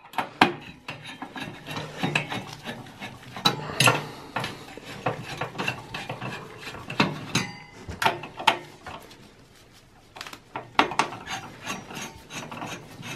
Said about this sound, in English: I'm gonna remove the heatsink using a Phillips screwdriver.